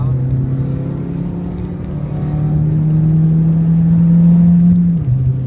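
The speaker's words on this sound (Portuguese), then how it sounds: "Você tá acelerando muito, velho." Peugeot 307 engine revving hard under acceleration during a track day, a loud sustained drone climbing steadily in pitch before dropping abruptly at a gear change near the end.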